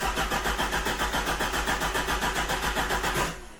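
A Mk3 Ford Cortina engine cranks with a steady, rapid starter rhythm that stays loud throughout, then cuts off abruptly near the end without clearly catching.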